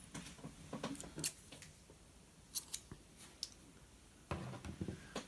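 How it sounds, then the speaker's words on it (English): Scissors snipping crochet yarn close up, several quiet sharp clicks of the blades spaced irregularly across a faint, otherwise silent background. "So we're going to cut our yarn."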